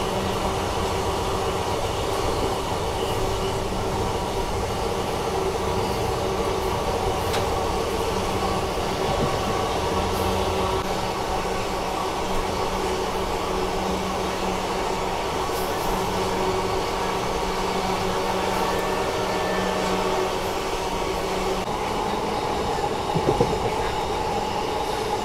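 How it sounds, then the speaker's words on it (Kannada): An ICF-coach express train, 07377 from Vijayapura to Mangalore through the Western Ghats, with flat wheels, rumbles steadily and loudly throughout. The onboard roar stays dense and unbroken with no voices. "ICF ಕೋಚಲ್ಲೂ ಫ್ಲ್ಯಾಟ್ ವೀಲ್ ಸೌಂಡ್ ಬಂದುಬಿಟ್ಟಿದೆ"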